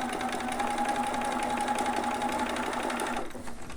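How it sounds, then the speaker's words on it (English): A sewing machine sews a ruffle onto a newborn romper, its motor humming with a fast, even stitching rattle up close that slows and stops near the end. "make sure you're lined up, and continue sewing"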